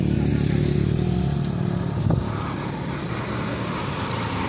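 A car or motorcycle rolls past on a road, a loud close engine drone filling the first half and swelling briefly near the middle before easing into steady traffic rumble; no one talks.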